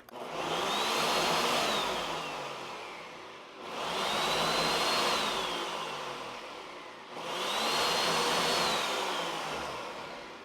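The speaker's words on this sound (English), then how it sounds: "I switch it over from manual to automatic and go with the smoothie setting" A blender on its smoothie setting churns cream into butter, running in three loud, whirring cycles, each starting abruptly and then winding down slightly before the next begins.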